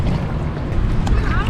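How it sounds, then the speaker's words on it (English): A canoe paddled on open water, with close, steady splashing and water movement under wind buffeting on the microphone for a brief moment. "Wife's doing the paddling for me."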